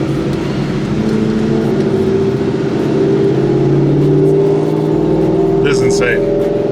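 A Ford Mustang GT, just fitted with new spark plugs to fix a misfire, drives along with a smooth, steady engine drone and road noise heard from inside the cabin, continuous throughout.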